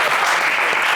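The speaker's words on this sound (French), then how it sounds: "Allez, on applaudit Moussa très fort" A studio audience at a French game show claps loudly and steadily for a contestant, a dense burst of applause with no talking over it.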